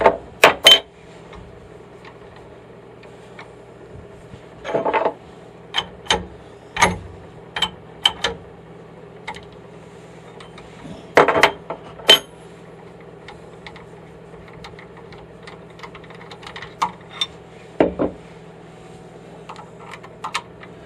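A 3/8 inch router bit is removed from a router with sharp metallic clicks and taps, scattered bursts of small tool noises over a steady low hum, close and isolated with no talking.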